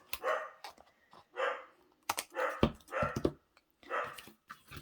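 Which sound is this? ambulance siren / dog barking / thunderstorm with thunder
dog barking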